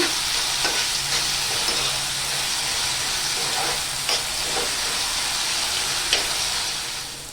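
Onion and tomato sautéing in hot oil, giving a loud, even hiss of frying. A few light scrapes of a stirring spoon come through now and then, and there is no speech.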